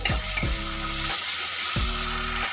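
Ground ginger and whole coriander paste hits hot oil in a pan for a sole fish curry, with a loud continuous sizzle and repeated scraping strokes of a spatula close by.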